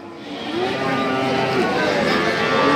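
Cattle at a busy cow market, among them a Sindhi-coloured calf, give a low drawn-out lowing against a constant crowd murmur, with voices in the background.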